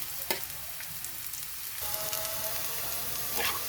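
Onions fry in a pan until light brown, a continuous soft sizzle with occasional utensil scrapes and small crackles, close and steady with no talking.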